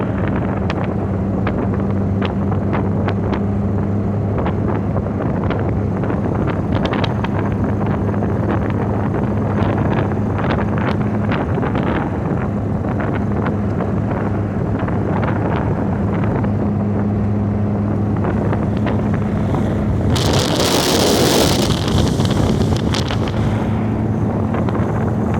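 A small MG TF sports car engine drones steadily while driving at around 50 miles an hour, a constant low hum with rushing wind noise. A brief gust swells near the end.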